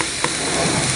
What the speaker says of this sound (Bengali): এটাকেও ভালোভাবে একটু নেড়ে চেড়ে নিতে হবে।